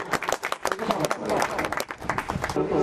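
An audience at a school ceremony claps for the teachers, a dense burst of hand claps that swells and dips, with voices mixed in.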